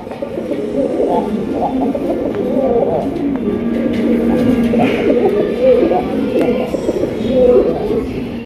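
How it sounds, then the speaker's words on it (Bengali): Bombay pigeons cooing steadily in a market collection, low rumbling coos overlapping throughout, close and fairly loud, with faint voices in the background. "দেখছেন নটটা কতটা অ্যাক্টিভ, নটটা কিন্তু প্রচুর পরিমাণে ডাকে"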